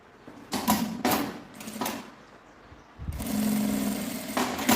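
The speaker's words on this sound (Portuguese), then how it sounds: "Vou iniciar fazendo também uma costurinha aqui na beiradinha, na lateral." Sewing machine stitching the side seam of a small fabric case lining, several short bursts of rapid mechanical whirring separated by pauses, then a longer steady run, close and moderately loud.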